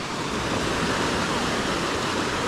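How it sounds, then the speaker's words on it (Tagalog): Broadband roar of sea waves washing in without pause, close and steady, with wind noise against the microphone and no clear voices. "Dagat na yan oh!"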